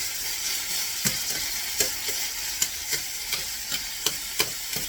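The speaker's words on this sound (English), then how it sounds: "Steak is browning nicely." Steak browning in a pan for a Philly cheesesteak pizza: a steady, close sizzle broken by sharp, regular scrapes and taps of a stirring utensil roughly every half second to second.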